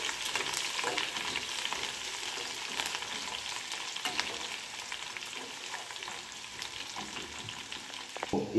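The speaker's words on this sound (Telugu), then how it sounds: "అవన్నీ వేసిన తర్వాత ఆనియన్స్ కొంచెం ఎర్రగా అయ్యేంతవరకు ఉండండి." Onions frying in a pan for a beetroot fry, a steady soft sizzle with scattered crackles and occasional stirring scrapes, fairly quiet and without talk.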